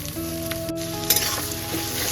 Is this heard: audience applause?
no